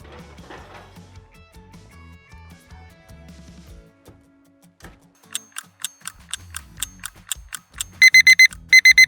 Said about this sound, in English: I'm going to check my cake because my alarm went off.